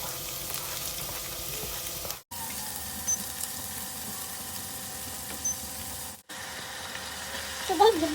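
Garlic and onion sizzle steadily in a hot pan, a continuous close frying hiss broken by two brief silent gaps and a few small clinks near the end.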